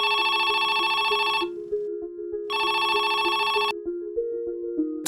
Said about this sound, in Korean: 두 시간 뒤에 친척집으로 전화 한 통이 걸려왔습니다